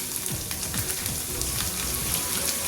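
Chopped onion, ginger and green chilli sauté in hot oil for a Kerala moru curry, giving a steady, close sizzle with occasional soft stirring scrapes and no talking.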